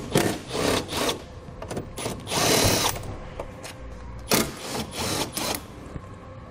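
A power drill on a Ford Edge backs out 10mm headlight screws in several short whirring bursts with pauses between, fairly close and loud, with no talking over it.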